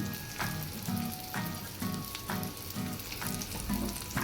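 Green chilli pieces frying in a pan with a sprinkle of turmeric give a continuous sizzle, with rhythmic stirring scrapes about every half second, close and steady, no voices.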